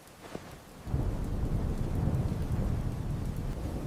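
Heavy rain and a rolling rumble of thunder in a storm that breaks big tree branches near a camping tent, starting faint and then a loud steady downpour after a moment.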